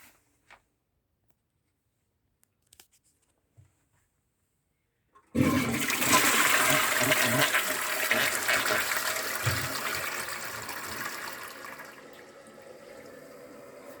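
A toilet cistern, just fitted with a new flush button and internal valve, is flushed after a few faint clicks, releasing a loud rushing gush of water that gradually tapers into a quieter refilling hiss.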